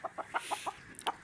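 An injured Aseel rooster with a damaged eye clucks in a quick series of about six short, evenly spaced clucks, moderately close and fairly soft, with no voices over it.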